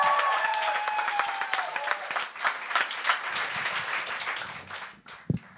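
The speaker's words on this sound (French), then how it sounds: "Et on accueille avec un tonnerre d'applaudissements Patrick Labelle" Audience at a live comedy show breaks into dense, sustained applause with cheers and whoops, loud and filling the whole stretch, tapering slightly near the end.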